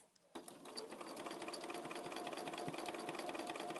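A sewing machine stitches a curve at close range, a steady fast mechanical whirr that starts abruptly and then runs without a break, with no voices over it.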